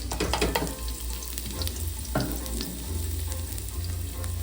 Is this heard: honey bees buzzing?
no